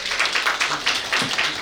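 Applause from an audience at a residents' meeting, a steady patter of many hands clapping at moderate distance, rising and falling in bursts across the short stretch.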